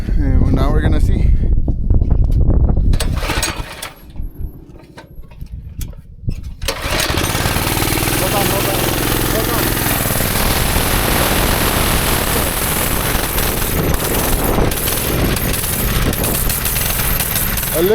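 A go-kart engine on a newly tightened chain drivetrain with no CVT runs loud and steady, dipping briefly before revving back up to a sustained buzzing drone, with people talking.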